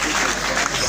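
A live audience at a French stand-up comedy show claps in a steady wash of applause, dense and continuous through a brief moment, with a voice faintly under it.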